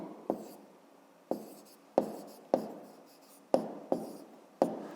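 A pen writing answers into a table for a grade 5 math logic problem, quiet close scratching with repeated sharp taps at the start of each stroke, roughly one per second.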